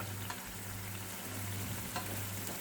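Garlic frying gently in oil and butter in a pan over a low flame gives a soft, steady sizzle with faint crackles, quiet and continuous.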